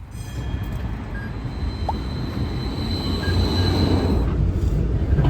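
A tram rolling through Istanbul: a steady low rumble of wheels on rail that slowly grows louder, with thin metallic squeals drifting over it and no voices.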